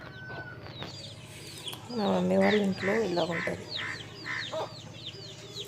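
Hens at a village home cluck and chatter close by in a quick run of short calls, while someone talks quietly over them.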